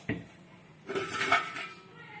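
Metal cooking vessels clink and clatter as they are handled, with a sharp knock at the start followed by a burst of ringing metallic rattles, close and fairly quiet.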